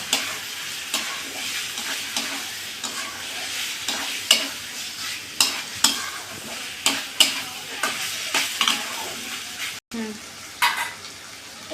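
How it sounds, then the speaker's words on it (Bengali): Meat being stir-fried in oil-released spice paste for a hot, sour and sweet dish, steady sizzling with repeated scraping strokes of a spatula against the pan at an irregular rhythm, close and fairly loud. "এবার আমি মাংসটা দিয়ে দেব, সুন্দর করে কষিয়ে নেব।"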